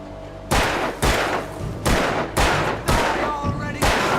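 Alan Wake fires a series of loud gunshots, about seven sharp blasts spaced roughly half a second apart, each followed by a short echo.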